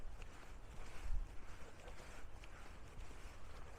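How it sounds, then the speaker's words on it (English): Wind gusting across an exposed South Downs hillside in freezing February cold, a steady roaring buffet on the microphone with a stronger surge early on, with no voices. "Definitely need somewhere out of this wind."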